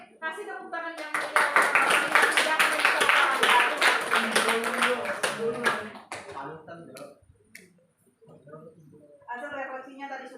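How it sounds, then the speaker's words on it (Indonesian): Classroom students clapping together for several seconds, loud and fairly close, before the sound fades away and a teacher's voice resumes speaking. "kasih tepuk tangan"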